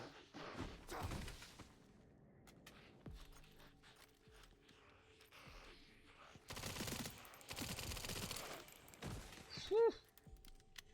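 Gunfire in the video game Resident Evil Requiem during a motorcycle fight, bursts of rapid shots and thuds clustered near the start and in the second half, fairly quiet with gaps of game ambience.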